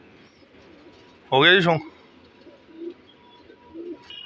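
A pigeon, newly brought in among a keeper's kabootar flock, gives one loud close coo, followed by a couple of softer sounds, with someone speaking briefly.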